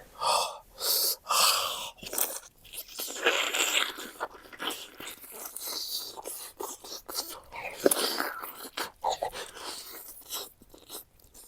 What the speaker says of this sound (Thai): เอาลองกัดเลยพี่น้อง